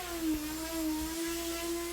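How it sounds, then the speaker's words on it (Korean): A table router whirs steadily as it rounds the side edges of a wooden tabletop, a close, continuous high-pitched motor whine with small dips as the bit bites into the wood. "측면 모서리도 테이블 루터로 둥글게 갈아냅니다"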